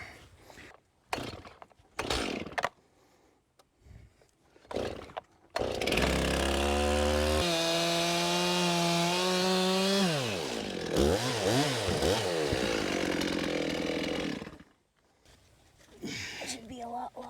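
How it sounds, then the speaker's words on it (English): A loud chainsaw cutting metal roofing roars for several seconds, its engine pitch rising and dipping as it cuts, with brief knocks and voices before and after. "I figure the best thing to cut this with is a chainsaw."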